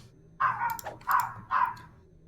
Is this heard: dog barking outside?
yes